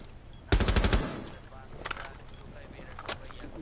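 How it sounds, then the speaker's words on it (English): Rapid automatic gunfire bursts from Rainbow Six Siege gameplay, a loud rattling volley near the start followed by scattered quieter shots, with talk around it. "they're just randomly shooting"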